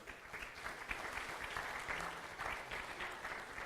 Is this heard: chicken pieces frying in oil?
no